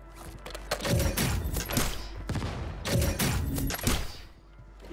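Gunfire in Call of Duty Warzone: dense bursts of shots in two main volleys, loud and close, with booming thumps between them and no talking.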